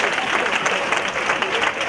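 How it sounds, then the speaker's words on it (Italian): Audience applause at a literary rave performance at the Pordenonelegge festival, dense steady clapping from a crowd that fills the whole moment. "Applauso per Monia."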